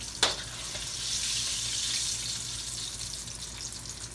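Fresh okra frying in hot oil for old-school fried okra, a close, steady sizzle that swells and holds, opened by a brief sharp clack, with no talk.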